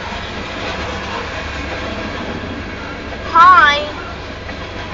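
A southbound Union Pacific grain train passing north of Elkhart, Iowa on the Spine Line, a continuous close rumble of cars rolling by with a brief wheel squeal midway and a short spoken greeting.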